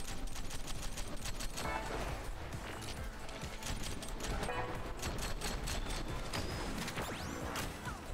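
Rapid, dense bursts of gunfire crackle continuously with sharp cracks and clatter, loud and close, like an intense firefight in the video game Rollerdrome.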